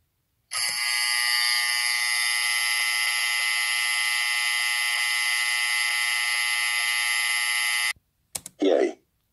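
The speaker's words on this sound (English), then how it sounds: "I pulled down the fire alarm." A loud, continuous fire alarm buzzes steadily for several seconds, cuts off abruptly, then two short bursts follow.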